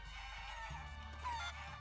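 A chicken in the video game Guacamelee clucks and crows in short bursts, faint against a steady background of game music.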